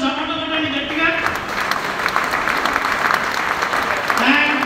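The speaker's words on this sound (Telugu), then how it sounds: "ఒకసారి అందరు చప్పట్లు కొట్టండి గట్టిగా" An audience at a magic show claps loudly, a thick burst of applause that swells and holds while a voice speaks over the start and end.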